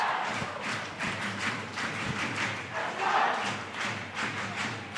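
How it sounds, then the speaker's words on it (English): A stadium crowd at an AFC Asian Cup qualifier football match roars steadily behind the Philippines national team against Tajikistan, a broad continuous wash of cheering with swelling surges and occasional thuds, no close talk. "Crowd trying to buoy on the Azkals"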